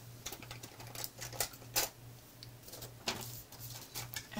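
A metal tape measure being handled and pulled out, a series of light clicks, rattles and ticks in an uneven rhythm, close and fairly quiet over a low steady hum, with no talking.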